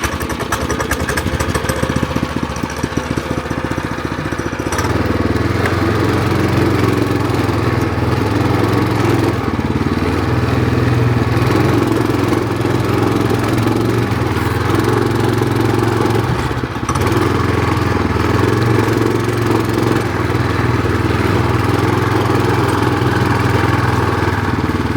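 A small engine runs with its choke on, apparently in a snowy setting on or near ice, giving a loud, steady buzzing drone throughout with a rough clattering start during the first few seconds. No voices are heard.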